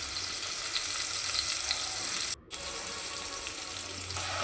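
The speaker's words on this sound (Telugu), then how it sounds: "ఆనియన్స్ మెత్తబడిన తర్వాత ఇప్పుడు అల్లం పేస్ట్ వేసుకుందాం." Ginger paste and softened onions fry in hot oil, making a dense, continuous sizzle with crackle and fine spitting, broken by a brief sharp drop in the middle, and no voice over it.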